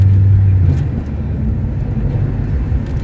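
An old Chevy truck plowing snow, with a steady low engine drone and rumble running throughout, loud and close, with no voices.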